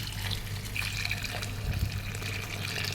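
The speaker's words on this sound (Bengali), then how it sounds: "গরম পানি দিয়ে দিচ্ছি।" Hot water pours steadily into a pot of slow-cooked chicken curry, a continuous close liquid rush and trickle with a low hum underneath.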